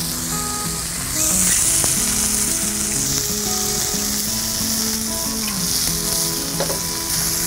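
Fish sears in hot sunflower or canola oil over high heat, giving a loud, steady, close sizzle that swells slightly a second in and carries on throughout, with soft background tones beneath.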